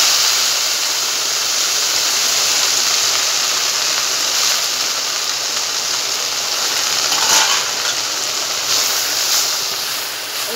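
Moringa leaves fry in hot oil with a loud, steady sizzling hiss that stays unbroken for the full length, with no voices.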